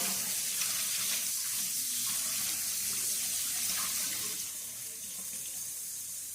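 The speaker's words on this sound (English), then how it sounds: "Let me wash my hands." Tap water runs steadily into a sink while hands are washed beneath it, a close, continuous splashing hiss that eases slightly near the end, with no talking.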